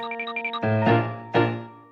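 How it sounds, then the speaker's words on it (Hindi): A hand bell rung indoors gives two clear, ringing strikes about 0.7 seconds apart, each decaying slowly over a steady background tone; no one speaks. "घंटी बजाओ"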